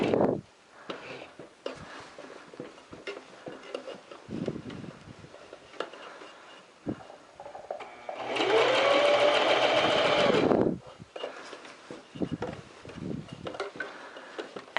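Sewing machine stitching a sleeve seam in one steady loud run of about two seconds, with quiet fabric handling and soft ticks before and after.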